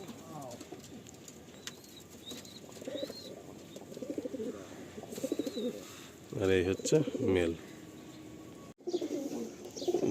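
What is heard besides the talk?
pigeons cooing in a loft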